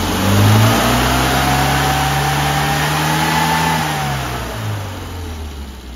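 A Mini car engine revs up sharply, holds at higher revs for a few seconds, then drops back toward idle. The sound is close, loud and steady, with no voices.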